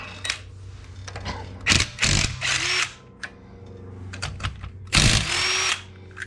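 Power tool loosening lug nuts on a 2018 diesel Chevrolet Equinox, several loud whirring bursts of a few tenths to a second each, close by, separated by short pauses.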